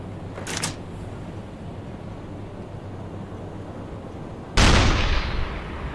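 A submarine deck gun fires in the UBOAT video game: a faint crack early on, then one loud, close boom whose tail decays slowly over the last second.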